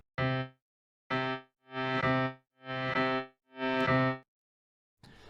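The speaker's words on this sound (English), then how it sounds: "If I just put one note there, and now the echo offset is here, I can put this to maybe half a bar delay time, and we will play the note" A single synth note runs through the Deelay free delay plugin set to about half a bar, sounding once and then repeating as four evenly spaced echoes, each with a slightly different tone.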